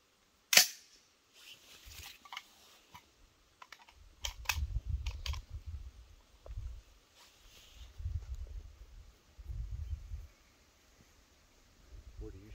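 A rifle fires one shot at a steel target around 240 yards away. The report is a single sharp, loud crack near the start, followed by quiet handling noises and low, muffled conversation.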